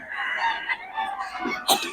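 Chickens and roosters at a Bocaue market, their clucks and crowing calls overlapping in a busy, fairly close chorus, with a sharper burst near the end.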